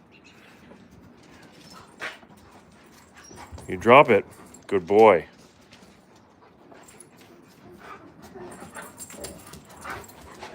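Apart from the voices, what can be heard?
Alaskan Malamute dogs whimpering while playing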